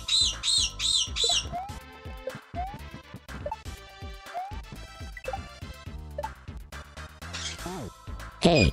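Birds squawk excitedly in rapid bursts, loud and close, with a run of shrill chirps at the start and harsh calls scattered throughout, and a person talking under them.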